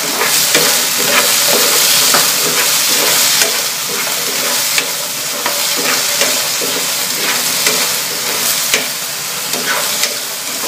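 Chicken breast, seasoned with salt and pepper, browns in a frying pan with a loud, steady close-up sizzle and occasional scraping stirs, crackling continuously throughout.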